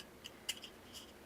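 Paper snipped with scissors to make small closure tabs for a paper photo film roll craft, giving a few faint, crisp snips spread across a quiet moment with no talking.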